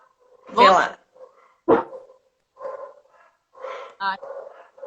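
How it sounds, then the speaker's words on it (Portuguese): Several sharp dog barks, spaced irregularly, with a short whimpering tone near the end; moderately loud against a quiet background. "Agora tem os cachorros passando."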